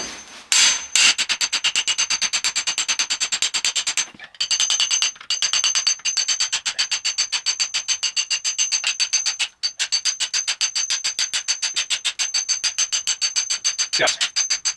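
A hammer pounds a punch to walk a part back on a Yamaha 700 SRX snowmobile, fast relentless metallic taps up close with a few short breaks, carrying on for a long stretch.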